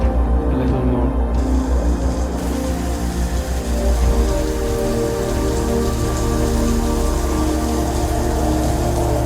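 Steady rain falling and pattering on surfaces, a dense continuous wash of drops heard up close and fairly loud, with no voices.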